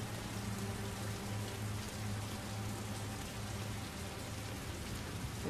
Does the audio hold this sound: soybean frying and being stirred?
no